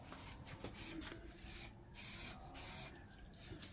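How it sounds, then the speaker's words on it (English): Light spray paint misted onto a stencil from about a foot away, three or four short soft hissing bursts with brief gaps, close but quiet. "He holds it about a foot away from it, yeah, and he just sprays, light sprays."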